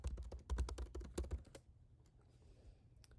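A fast run of clicky keystrokes on a computer keyboard as a URL is typed, close and crisp for about a second and a half before falling quiet.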